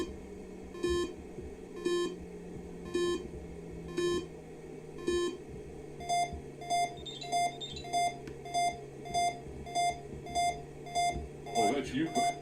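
Repeated electronic beeps from an aircraft instrument in a flight simulator game, steady and evenly spaced, sound through the whole stretch, shifting to a faster, higher pattern midway over a low hum.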